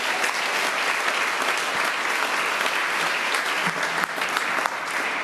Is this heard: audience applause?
yes